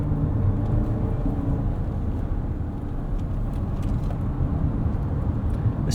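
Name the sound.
Lexus TX 500h F Sport driving on road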